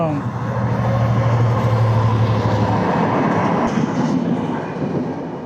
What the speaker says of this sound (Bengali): ওই যে আসতেছে ট্রেন চলো